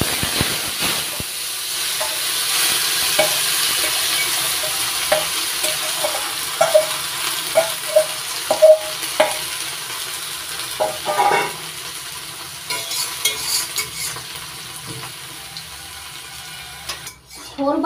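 Banana stem paste being stirred and fried in a pan, with a hissing sizzle under repeated scraping and tapping strokes of the spatula in a loose rhythm, fairly close, and no speech.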